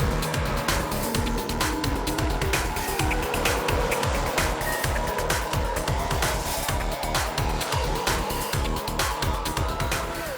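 A1GP open-wheel race cars blasting down a walled one-kilometre start-finish straight toward the first corner, loud high-revving engines screaming past in rapid overlapping passes with rising and falling pitch, continuous and close.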